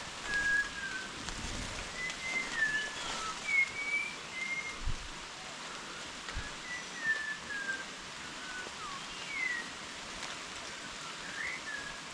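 A bird in the hills near Vikatgad fort sings a series of clear whistling notes in short separate bursts, fairly faint over a soft, steady background noise, with no talking.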